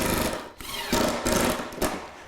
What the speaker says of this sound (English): Then I can drive the screws.